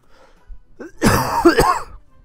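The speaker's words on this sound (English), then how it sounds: "Oh, I've got a dirty cough." A single harsh throat clearing rolls into a rough cough, close and fairly loud, with near silence around it.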